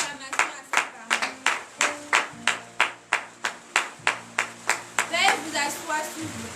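A church congregation at a morning prayer service claps in unison, a steady rhythmic beat of sharp hand claps about twice per second, with sustained keyboard chords underneath.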